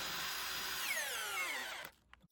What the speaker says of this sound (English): insert our bit, and drive a couple of screws. We've got a 6x160 and an 8x160mm.